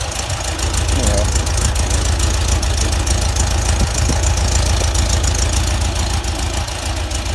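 A Volkswagen Type 4 engine runs steadily on a stand, a loud continuous low idle with a rough, knocking pulse throughout, while someone talks nearby.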